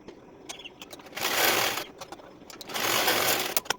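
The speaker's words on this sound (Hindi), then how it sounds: "इसको और इसको मिला के सिल देना है" A sewing machine stitches the shoulder seam joining the front and back of a size 30 blouse, running in two sustained bursts of rapid mechanical whirring with quiet pauses and small handling clicks between.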